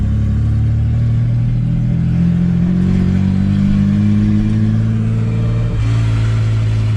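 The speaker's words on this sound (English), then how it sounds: "God, this car's so loud, I forgot how loud it is." Loud, steady engine drone from a Ford AU Falcon drift car cruising along, with the revs climbing slowly and a brief dip near the end as the throttle eases.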